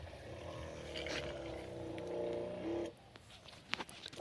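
A small motorized pesticide spray pump in an onion field gives a steady buzzing engine drone for about three seconds, then cuts away to quieter outdoor sounds with a few knocks and clicks.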